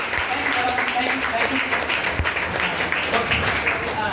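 Applause from an audience at an event, loud sustained clapping that holds steady throughout, with speech and crowd voices mixed into it.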